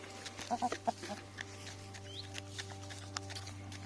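Chickens cluck softly in a few short bursts near the start, then scattered quiet pecks and clucks continue over a low background hum.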